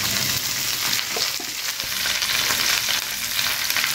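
Dried chillies and black cumin fry in hot oil with a loud, dense, crackling sizzle that holds steady and close throughout, with light stirring noises mixed in.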